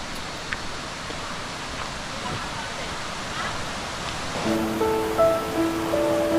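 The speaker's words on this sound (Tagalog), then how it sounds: "Ayun, yung falls." Caunayan Falls in San Luis, Aurora pours in a steady broadband rush of falling water, close and continuous, with a brief tonal whistle or chirp near the end.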